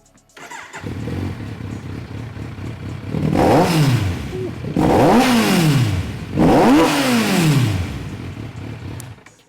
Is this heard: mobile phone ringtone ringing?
no